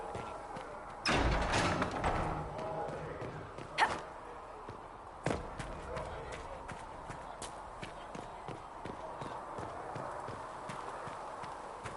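Horse hooves clip-clop in a steady walking rhythm, fairly close, with a few louder thumps and soft voices murmuring in the background.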